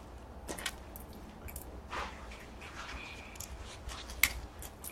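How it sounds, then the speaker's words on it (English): Scissors trimming fabric for a cross-stitch project, a series of small, close snips and crisp clicks scattered irregularly over a quiet background with no talking. "Alright, I'm going to cut more off."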